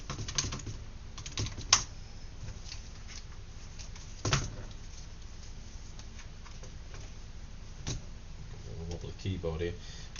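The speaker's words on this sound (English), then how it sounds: "Wobbly keyboard here." Quiet, uneven clicking of keys being typed on a wobbly keyboard of a retro Windows 98 gaming computer, with a few louder clunks mixed into the steady patter.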